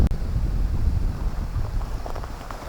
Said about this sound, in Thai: ลมมันแรงเนาะวันนี้เนาะ